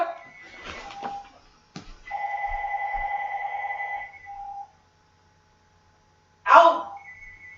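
An incoming phone call rings as a steady electronic tone for about two seconds, cutting off after a short tail, with quieter rustling before it and a brief sharp noise near the end, all fairly faint.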